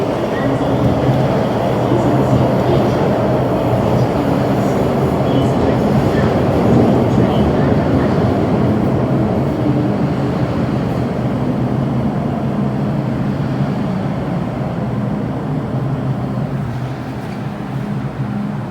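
A metro train arriving at Tin Hau Station rumbles continuously at close range, with a steady roar and faint rhythmic rail clatter that slowly eases toward the end.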